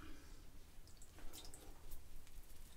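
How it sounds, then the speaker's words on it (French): A little water trickles and drips while preparing to shave with a RazoRock Santa Maria del Fiore Firenze shaving product, a few faint close splashes and drips without talk. "Mettre un petit peu d'eau."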